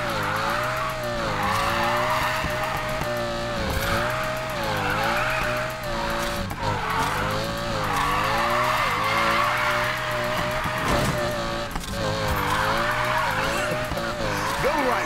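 Car drifting in Need for Speed Payback, a racing video game, with a steady engine roar and sustained tire squeal and skid running throughout, loud and continuous with shifting pitch as the slide holds.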